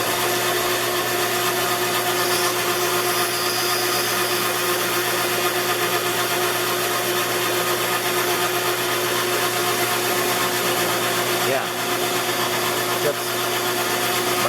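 A power saw cutting closely spaced kerf cuts into wood, a loud continuous whining buzz that holds steady and close throughout with only brief dips.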